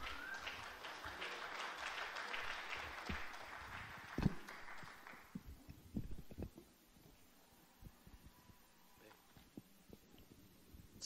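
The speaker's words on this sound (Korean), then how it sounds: "그럼 큰 박수로 김승수 시장님을 연단으로 모시겠습니다." An audience at a Korean local government session on eco-mobility applauds as a city mayor is welcomed to the stage; steady clapping fades out after about five seconds, followed by scattered footsteps and shuffling.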